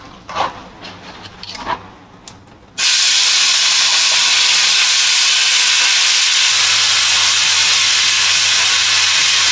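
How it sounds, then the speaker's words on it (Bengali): Spice paste hits hot oil seasoned with cumin seeds, a bay leaf and whole garam masala, bursting into a loud, steady sizzle after a few quieter kitchen clinks and taps. "একটু চিরবির করে উঠলে এর মধ্যে এই পেস্টটা দিয়ে দেবো।"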